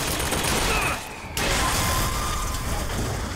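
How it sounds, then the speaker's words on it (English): Hand cannon gunfire in BioShock Infinite, a loud, dense barrage of blasts and game combat noise that cuts out briefly and then resumes at full force. "This hand cannon is a beast."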